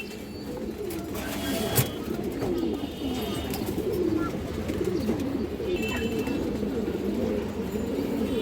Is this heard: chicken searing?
no